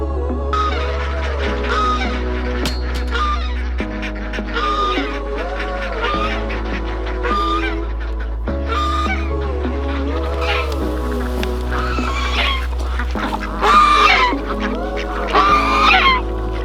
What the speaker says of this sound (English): that sound right there is coming from our guard goose